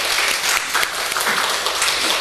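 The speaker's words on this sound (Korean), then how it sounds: "박수 한번 합시다." Church congregation applauding during a Sunday Easter service, a dense, loud and steady wash of many hands clapping together for the whole stretch, with no voices standing out.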